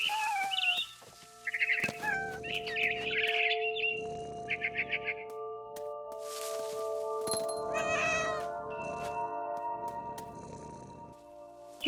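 A cat meows and yowls several times in the video game What Remains of Edith Finch, its drawn-out cries mixed with brief bird chirps over a steady, tonal ambient backdrop.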